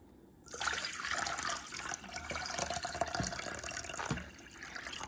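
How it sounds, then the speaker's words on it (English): Four cups of filtered water being dumped into a pot for homemade elderberry syrup, a steady, loud rush of pouring liquid that runs for several seconds before tapering off, with no talk over it. "4 cups of filtered water. To that water, I'll just dump it in now."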